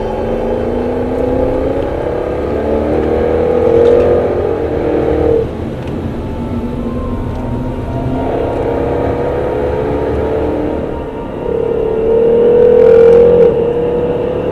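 A 2010 Jaguar XKR 75 engine drives hard on the bumpy Nurburgring track, a loud continuous engine roar with rising and falling pitch as it accelerates through gears, heard close and alone throughout.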